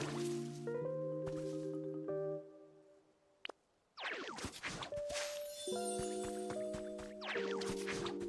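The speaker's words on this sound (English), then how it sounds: "Using water gun to restore some withered plants" Water spraying from a Pokémon's Water Gun onto withered plants in the game Pokopia: squishy, splashing bursts set among bright layered musical chimes, with a short quiet gap in the middle.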